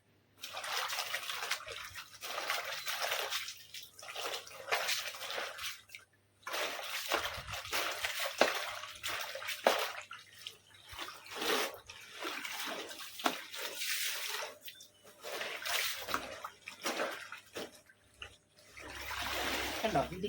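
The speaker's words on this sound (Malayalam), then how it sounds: "ഇതിങ്ങനെ മുക്കി ഒരു 2-3 വട്ടം നമ്മളിങ്ങനെ കഴുകണം." A saree dipped, sloshed and rinsed by hand in a basin of water, with repeated splashing and trickling across the whole stretch, close and fairly steady, broken by brief pauses as the fabric is lifted and lowered.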